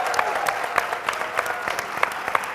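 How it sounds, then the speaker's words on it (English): Steady audience applause at a workshop, with many hands clapping in a dense, even patter for the whole stretch. No voices stand out above it. "Nikki Giovanni, let's give her a round of applause."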